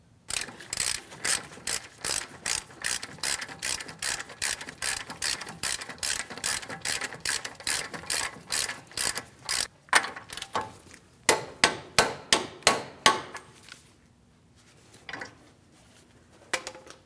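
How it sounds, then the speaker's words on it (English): Ratchet torque wrench tightening a wheel hub nut on a 2016-2025 Chevrolet Malibu during a front wheel bearing and hub job: a rapid, even run of loud close clicks, then slower spaced clicks that trail off into quiet. "We'll torque it to 111 foot-pounds."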